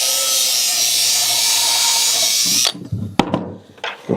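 A power drill drives a screw back into a piece of furniture, a steady loud whirring for about two and a half seconds that stops abruptly, followed by a few faint clicks and handling knocks.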